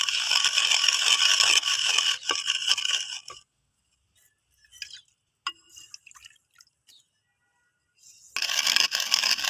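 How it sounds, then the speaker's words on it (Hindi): Sugar is stirred and mixed into crushed mint for shikanji, with scraping and clinking spoon strokes at the start and end, separated by a quiet stretch of faint taps and small knocks. "ये तो चीनी को मिक्स कर लूँगी इसमें।"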